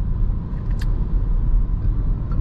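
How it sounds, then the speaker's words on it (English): A 2021 Peugeot e-208 Allure electric car drives on the road at night, heard from inside the cabin as a steady low rumble of road and tyre noise, with a few light clicks. "the car is very comfortable on the road, and again, it's very fast and responsive"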